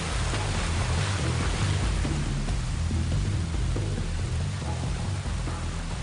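A roaring jungle waterfall, a dense continuous rush of crashing water with heavy low rumble, loud and steady throughout with no other sounds standing out.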